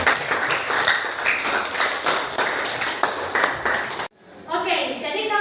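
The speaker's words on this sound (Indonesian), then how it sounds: "Berikan tepuk tangan." Students in a classroom clap together in a steady, crisp rhythm for about four seconds, then it cuts off and a voice speaks.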